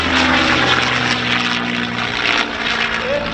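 A P-51D Mustang propeller fighter lifting off at an air show in Dayton, a loud, steady droning engine roar with a throbbing propeller buzz, close and continuous across the moment.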